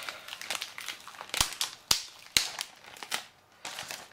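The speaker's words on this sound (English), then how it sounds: "We also find down here a plastic bag" Plastic bag crinkling while a Samsung WB850F camera is unboxed, close and fairly quiet, with a steady rustle broken by several sharp crackles and snaps and no talk.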